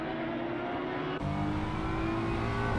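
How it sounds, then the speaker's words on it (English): BMW GT3 race car engine in the ACC sim racing game at Kyalami, a steady loud engine drone with a sharp gear change partway through, then rising revs as it pulls away. "you can hear the throats of that BMW, man. The thing is just so torquey."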